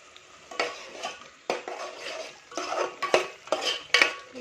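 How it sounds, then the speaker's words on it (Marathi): Red chilli powder, turmeric and black masala fry in oil for a chicken rassa, stirred in rhythmic scraping bursts about once a second over a soft sizzle, heard up close. "आता हा मसाला आपल्याला चांगलं तेल सुटेपर्यंत परतून घ्यायचा याला।"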